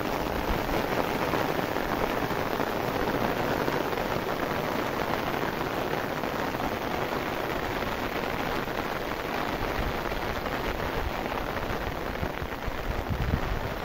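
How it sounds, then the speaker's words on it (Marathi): Heavy unseasonal May rain in Beed pours down continuously, a loud dense roar of rainfall that stays even from start to finish with no voices. "जोरदार पाऊस हा बीडमध्ये होऊ राहिला आहे"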